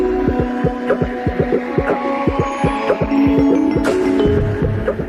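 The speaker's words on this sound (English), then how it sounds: "As the machine's roller runs over the model, it guides a shaper to carve the wood exactly like the model." Copy shaper machine carving a wooden wind generator propeller, a loud, close rhythmic thumping with a steady machine hum underneath, the cutter knocking at a regular pace through the whole clip.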